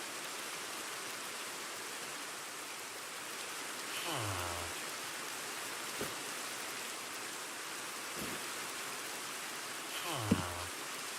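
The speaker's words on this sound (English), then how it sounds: "And it's raining." Rain falls steadily in Minecraft as an even, close hiss throughout, with a few short in-game sounds rising above it now and then.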